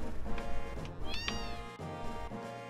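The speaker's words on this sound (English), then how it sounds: "But that is definitely a meow." Cats meow in Wutai in the video game Final Fantasy VII, a few clear mewing calls over looping background music.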